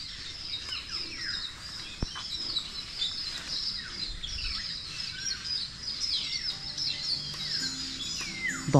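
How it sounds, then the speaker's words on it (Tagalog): Many crows and other birds call together near a lanzones harvest where they feed on malatubig fruit, a dense steady chorus of overlapping chirps and caws at moderate distance with no talk. "ang daming uwak pati"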